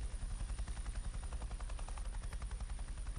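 Helicopter in a flight simulator game played with an Oculus Rift VR headset, a steady rhythmic rotor chop with a low engine drone, continuous and fairly loud inside the cockpit, no talk.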